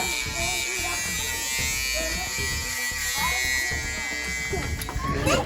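An electric trimmer hums continuously up close, a steady mechanical buzz with people talking and background noise around it.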